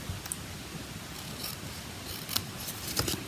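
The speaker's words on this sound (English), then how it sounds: "anything overhanging the envelope, we're going to snip those off" Scissors snip away paper edges overhanging an envelope, a few crisp, close cuts spaced irregularly over a low background hum.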